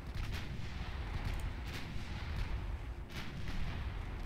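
Naval guns fire in an Ultimate Admiral Dreadnoughts battle, several muffled booms spaced over a few seconds against a low rumbling background, fairly faint and with no voices.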